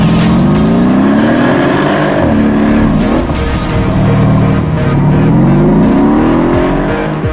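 A Mercedes-AMG 5.5-litre V8 biturbo engine revs loudly and close, its note climbing and falling through several sweeps with a brief dip midway before surging again.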